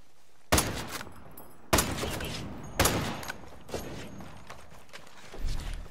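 Gunfire in Tom Clancy's Ghost Recon Breakpoint PvP: three sharp, loud shots spaced about a second apart, each with a ringing tail, then a softer shot and a brief rattle of equipment.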